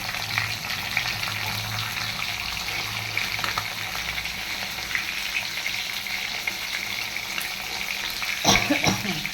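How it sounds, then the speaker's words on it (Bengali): Katla fish frying in a pan gives a steady, close sizzle with faint crackles, joined near the end by a brief clatter of kitchen handling; no one speaks. "মাছটা ওখানে ভাজা হচ্ছে"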